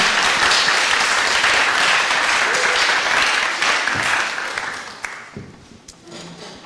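An audience at a hackathon's final presentations claps steadily and loudly, the applause thinning and fading out toward the end.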